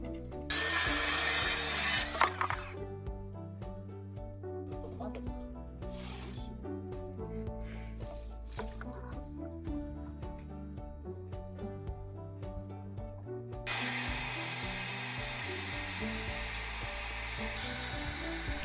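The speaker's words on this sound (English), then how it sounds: "We'll use this to drill holes for the fence posts." A diamond core drill grinds steadily through a concrete block, its motor humming under a gritty scraping, with harsher, louder bursts near the start and end.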